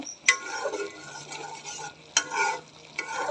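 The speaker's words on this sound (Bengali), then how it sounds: "তো এটা ভালো করে কষিয়ে তারপরে পটলগুলি দিয়ে দিব" Spice paste of ginger, cumin and garlic with yogurt and nut paste is stir-fried in a pan, a low sizzle punctuated by two or three sharp spatula scrapes close by, with no voices.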